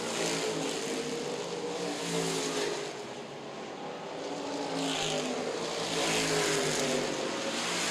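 Stock race cars in a preliminary event at the Winchester 400 weekend roar around the track together in a steady, dense engine drone, swelling slightly as cars pass nearby, with no talk.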